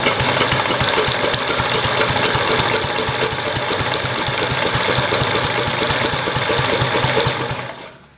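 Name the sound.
Kohler K181 small engine cranking, trying to start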